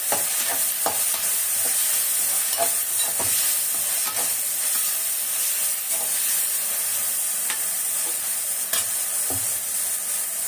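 Onions and tomatoes with salt sauté in a pan on the stove for a rasam, a steady frying hiss with repeated scrape-and-stir clicks from a spoon, close and even, no voices.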